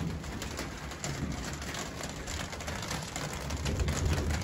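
Soft cooing from young pigeons murmurs close by over a steady hiss of background noise, continuous and low without clear breaks.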